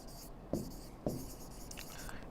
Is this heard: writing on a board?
yes